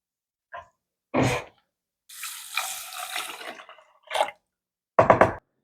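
Bone broth splashes and gurgles into a cooking pot for quinoa in a short, moderately loud pour, framed by a few brief knocks and clatters of kitchen handling before and after; no talking.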